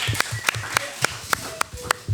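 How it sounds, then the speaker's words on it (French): High-school students at the close of a school project clap in a sparse, evenly spaced run of about eight sharp claps, each quick and distinct against a quiet background. "Vous pouvez vous applaudir pour la fin de cette aventure"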